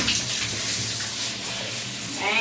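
Water running steadily from a shower while a Labrador dog is bathed, a broad continuous spray with a faint voice underneath near the start.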